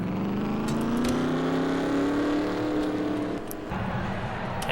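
Stock race cars roll off at the start of a simulated race at Heidelberg, a pack of engines droning together with a steadily rising pitch, loud and continuous before easing slightly toward the end.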